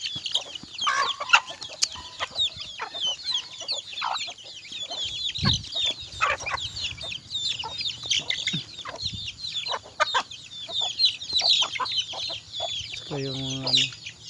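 Hen clucking among a busy flock of chickens, repeated soft clucks over steady chirping and birdsong, with a brief rooster-like call near the end.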